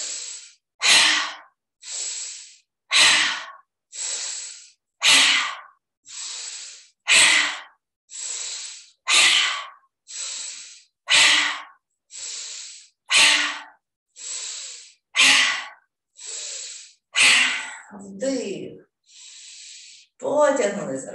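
Forceful breaths repeat in a steady rhythm, each sharp, noisy 'kh' exhale following a softer inhale, close and loud, about twenty cycles.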